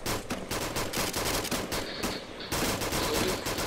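Rapid automatic gunfire from several weapons in the Arma 2 military shooter plays as a loud, continuous stream of bursts in a co-op battle, with no voices over it.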